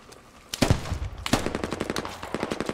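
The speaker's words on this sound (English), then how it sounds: "That's an AK." Bursts of AK rifle fire in a video game: a short volley, a pause, then a longer rapid string of shots, loud and close.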